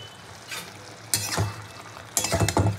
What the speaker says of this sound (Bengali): চিনিটা মিশিয়ে একটু নাড়াচাড়া করে পুঁই শাকটা আমি নামিয়ে দেবো।